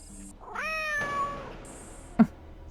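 Robotic cat in a Nancy Drew video game giving a clear, tonal electronic meow with rising pitch, followed by a short sharp blip, heard alone and fairly close.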